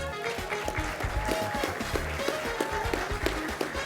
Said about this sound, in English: I will ask them to stand, please, for a round of applause.